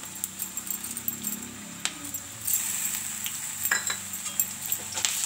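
Onions with ginger-garlic paste frying in a pan, a continuous soft sizzle with repeated clinks and scrapes of a spoon stirring against the pan at an irregular rhythm.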